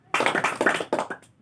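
Children's hands clap together in a classroom clapping game, a quick run of sharp close claps in uneven rhythm, with no voices over them.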